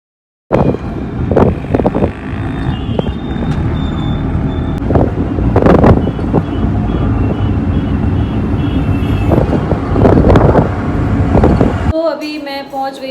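Strong wind buffets a microphone outdoors, a loud, continuous low roar with gusting surges that runs for most of the stretch before cutting off abruptly near the end.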